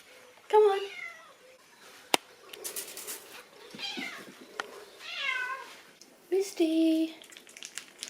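Pet cat Misty meows several times close to the microphone, the calls spread across a few seconds with short gaps and quieter background sound between them.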